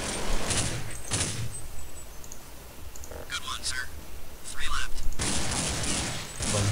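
Bursts of gunfire from Counter-Strike Condition Zero, Tour of Duty, with several loud rapid volleys, two near the start and a longer sustained one near the end, plus quieter clicks and mechanical sounds in between.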